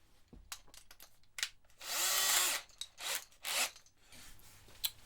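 A drill-driven cylinder hone works inside a Honda CB550 cylinder bore in short bursts, a whirring grind that rises several times with pauses and clicks in between, heard close up.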